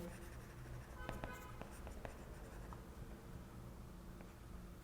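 Chalk or marker writing on a board during a lecture, faint scratchy strokes and a few sharp taps in quick irregular bursts over quiet room noise.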